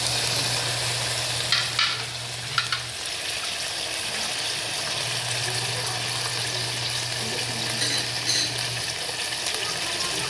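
Pork pata, a pork leg, frying in a pan: a steady, close sizzle runs throughout with a low hum underneath and a few clatters, with no voices.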